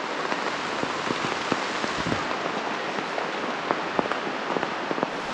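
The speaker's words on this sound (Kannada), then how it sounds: "ಇವಾಗ ಕರೆಕ್ಟಾಗಿ ಮಳೆ ಬರೋ ಟೈಮ್ ಇದು." Steady rain falls on a farm, a dense even hiss with scattered sharper drops pattering close by on nearby surfaces, continuous throughout.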